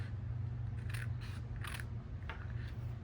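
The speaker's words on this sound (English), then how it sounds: "and then I'm going to cut this little square off, the very first little square." Scissors snipping paper for a handmade gift box, four or five short crisp cuts spaced about half a second apart over a steady low hum, close and without talk.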